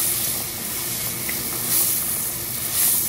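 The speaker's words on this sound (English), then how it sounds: "this is boiling" Pasta sauce boils in a pot on a kitchen stove, a steady close sizzling hiss with gentle bubbling swells.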